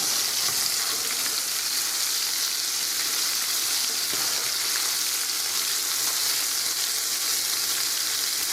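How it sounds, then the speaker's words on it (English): Chunky green tomato slices frying in grease that is a little too hot, a loud, steady, dense sizzle with a crackling hiss that runs unbroken throughout, close and with no talk over it. "I just dropped these in. And I had my grease a little too hot."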